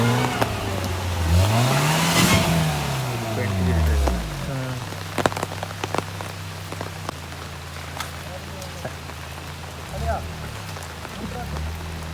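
Heavy rain patters steadily on a muddy road while a car engine revs and passes, with scattered drips and clatters over the constant hiss.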